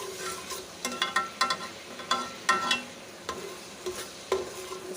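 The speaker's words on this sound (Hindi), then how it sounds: "इसको अच्छी तरह से हम भून लेंगे, फ्राई कर लेंगे।" Ginger garlic paste fries with browned onions in a pot for a korma, a soft steady sizzle broken by sharp, irregular scrapes and knocks of a spoon stirring, close and without talking.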